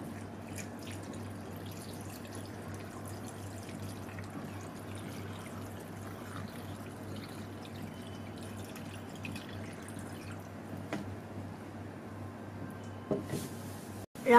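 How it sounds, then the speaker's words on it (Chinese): Clear water pours into the ceramic inner pot of a TIANJI DGD22-22EG electric stew pot that holds pork ribs and ginger slices, a quiet, continuous trickle and splash under a low background hum. "然后加上适量的清水"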